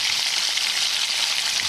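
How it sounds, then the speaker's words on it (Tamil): Steady, close sizzling and crackling of curry leaves frying in hot oil, a continuous bright hiss with no voices. "கருவேப்பிலையை போட்டு நல்லா வதக்குங்க."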